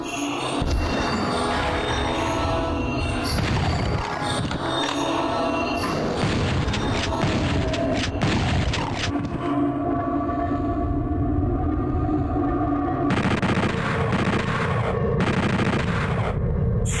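PlayStation Doom combat with rocket explosions and gunfire, dense booming blasts and rapid shots layered over a continuous game soundtrack, loud and unbroken throughout.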